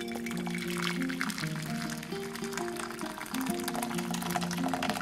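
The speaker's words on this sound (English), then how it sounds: "I'm gonna pour in my water." Steady splashing and gurgling of boiling water being poured into a bowl, continuous and close, with soft music underneath.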